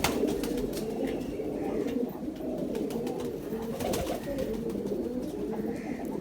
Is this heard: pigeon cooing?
yes